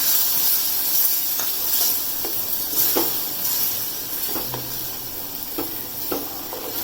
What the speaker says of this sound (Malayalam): ഈ സമയം നമ്മൾ പിഴിഞ്ഞ് വെച്ച് ഒരു ചെറിയ നെല്ലിക്ക വലുപ്പത്തിൽ സോക്ക് ചെയ്ത് പിഴിഞ്ഞ് വെച്ച പുളിവെള്ളമാണ്. ഇത് നമുക്ക് ചേർത്ത് കൊടുക്കാം.